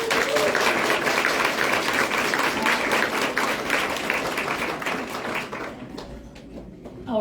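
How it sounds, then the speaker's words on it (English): Sustained applause from an audience at a tech awards ceremony honoring nominees, dense steady clapping that fills the room and tapers off near the end, with no talking over it. "Big round of applause for all the nominees"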